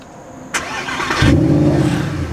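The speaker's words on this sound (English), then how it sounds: "Next thing we're gonna do is, of course, start the engine. I want you guys to hear that V8 for sure." A Mercedes SLS AMG with its 6.3-litre V8 starts warm: a sharp click and starter whir, then the engine catches with a loud, deep, steady rumble that settles into a full idle, close by with no talk.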